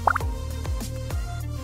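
Water drops fall one after another from a set of teeth, giving a few distinct, close plopping drips in a loose rhythm against a quiet background.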